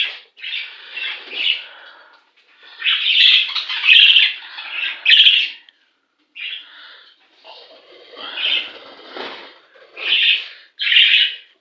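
Young budgerigar chicks squawking in harsh, raspy bursts, close and loud, with brief pauses between clusters of calls and faint hints of fluttering, with no one speaking.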